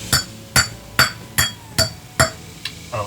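A steel hammer taps a new bearing race into a boat trailer hub, seven sharp metallic clinks at an even half-second rhythm, close and fairly loud, the last one lighter.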